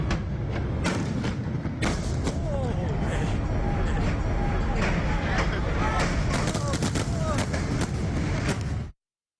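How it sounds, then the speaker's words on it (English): Fireworks mortar misfiring at a Pearl Harbor show, exploding near the base of a barge; a dense run of booms, thuds and crackling bursts, loud and continuous before cutting off abruptly, with voices mixed in. "a mortar misfired, causing a blast near the base of the barge"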